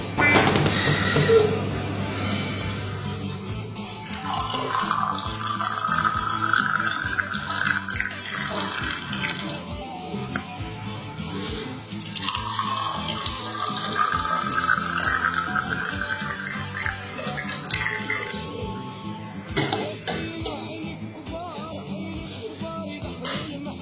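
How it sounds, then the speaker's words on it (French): Mint tea is poured from a glass back into a teapot to mix in the sugar: a close, splashing stream of liquid comes in two long pours, with brief clinks and handling noise between them. "le sucre doit se mélanger dans notre théière en même temps qu'on verse notre thé et qu'on le remet dans notre théière"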